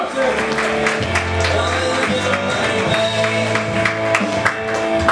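A stand-up comedy audience claps steadily for a comedian's introduction, a dense wash of applause that holds for several seconds over music and voices.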